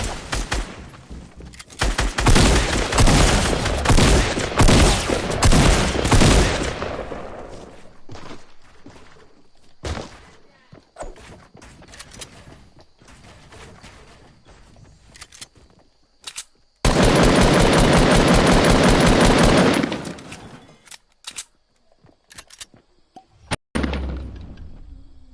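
Bursts of rapid SMG fire in a video game, starting with a long close volley, then scattered shots and impacts, and later another sustained burst, loud and rattling with short pauses between.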